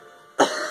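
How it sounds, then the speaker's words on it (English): One short, sharp cough follows a moment of quiet, close and fairly loud. "I've been doing a lot of coughing today"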